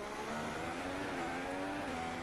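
Renault Formula 1 race car engine running loud and steady with a rising tonal whine, continuous and close, at a Grand Prix.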